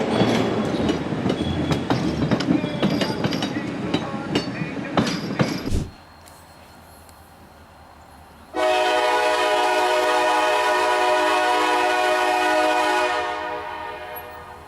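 Chicago's CTA holiday train, decorated for the festive season, passes loudly with rattling rail clatter, then drops off to near quiet before a long, steady, tonal horn sounds for several seconds and fades out.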